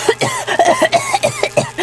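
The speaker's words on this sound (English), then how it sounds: "Suddenly, she started coughing." A rapid series of harsh, close coughs in quick bursts, one after another, loud and raspy with short gasps between them.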